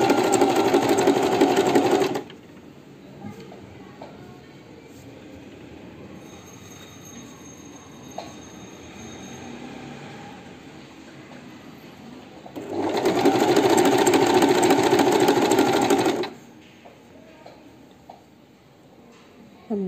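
Singer sewing machine fitted with an overlock foot stitching fabric, running in two loud steady bursts of about two seconds and three and a half seconds, separated by a quieter pause.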